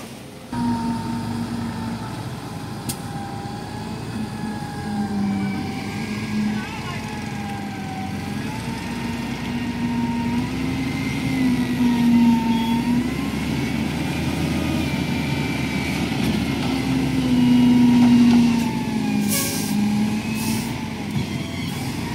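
A heavy loader truck's engine drones steadily up close, its revs drifting gently up and down throughout.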